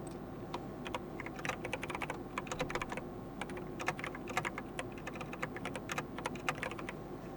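Rapid keystrokes on a computer keyboard while a custom RGB lighting preset name is entered, an irregular run of light clicks with small pauses, close and fairly soft, with no talking.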